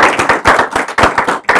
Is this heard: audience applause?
yes